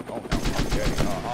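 Rapid gunfire bursts from the video game Duck Season rattle in a dense, loud volley after a brief quieter moment.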